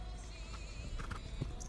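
Horse's hooves striking the arena footing during an extended walk in a dressage test at a young riders' eventing championship, a few soft irregular thuds heard faintly against quiet background ambience.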